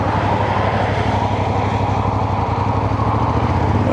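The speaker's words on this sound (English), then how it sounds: "let's just wait for this truck to pass" A truck passes along a dual carriageway, heard as a loud, steady engine drone and road roar that dominates throughout with no speech over it.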